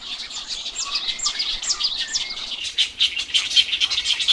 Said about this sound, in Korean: 북쪽으로 갈수록 새소리가 요란해진다.